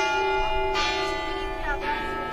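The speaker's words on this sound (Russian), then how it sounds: "колокола часов, которые каждые 15 минут перезвонами указывают время" Clock bells in the octagonal tier of the leaning Demidov tower in Nevyansk, on English clockwork from 1730, ring a sustained, resonant chime with overlapping strikes that swell and decay, loud and alone without talk.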